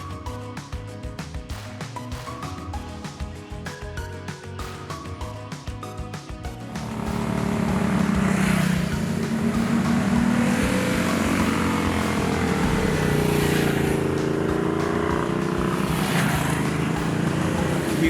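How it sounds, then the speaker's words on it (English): Ducati Multistrada motorcycles riding through corners on a scenic road in Thailand, a steady engine drone that thickens partway through into a louder, fuller roar with wind rush, heard alone without talk. "then jumped back on our bikes for more fun corners as that gorgeous scenery went by"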